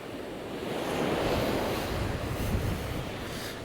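Stormy surf breaks on the beach at Walcott, a heavy roaring wash of waves mixed with gusting wind that swells and stays loud and close throughout, with no voices.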